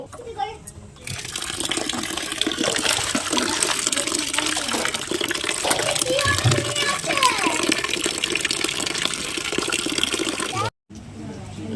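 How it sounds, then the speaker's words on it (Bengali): Vegetables, arum stolons being readied for a Bengali dish with hilsa head, are washed under running water, a steady close gushing and splashing that stops abruptly near the end, with a voice faintly in the background. "এরপর এগুলো ভালো করে ধুয়ে নেব"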